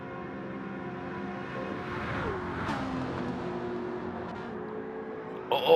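A GT3 race car in a racing video game roars past at the high-speed ring, its engine note sweeping and shifting pitch as it slipstreams by, steady and fairly loud with a sharp burst at the end.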